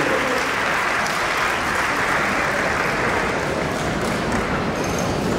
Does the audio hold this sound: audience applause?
yes